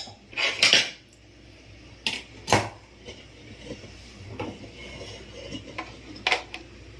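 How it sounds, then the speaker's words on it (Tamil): Metal utensils scraping and clanking against pots as a sweet sugar mixture is moved into another cooking vessel, a few sharp scrapes and knocks spaced apart, close and clear, with no talk. "இப்போது இதை நான் வேறு ஒரு பாத்திரத்தில் மாற்றிக்கிறேன்."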